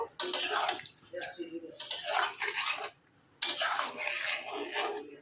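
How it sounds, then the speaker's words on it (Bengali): A utensil stirs food in a metal cooking pot during home Bengali-style cooking, with clinking and scraping in three bursts separated by short pauses, moderately close and fairly quiet, with no voices. "ভালো মতো একটু নেড়ে নিব।"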